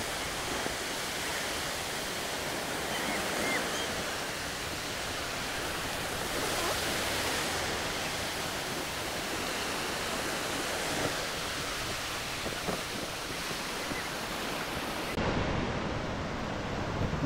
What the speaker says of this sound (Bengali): আর এই সমুদ্রের গর্জন আপনাদের শুনতে